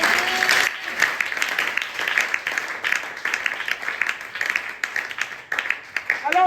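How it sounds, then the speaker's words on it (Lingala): A church congregation applauds for the Lord during a sermon, a sustained burst of many hands clapping at moderate distance, with voices calling out over it. "Est-ce qu'on peut acclamer pour le Seigneur?"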